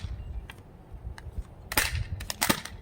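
A Nerf dart blaster fires foam darts in a quick burst of three or four sharp close snaps near the end, after a few softer mechanical clicks of priming and handling.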